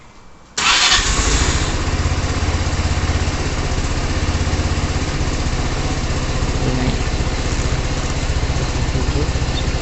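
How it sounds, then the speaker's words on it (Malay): A Modenas Elegan 250 motorcycle engine cranks and fires after a brief quiet moment, then settles into a steady, loud, close idle that runs to the end. "Mungkin kita kena start dulu kot untuk dia charging."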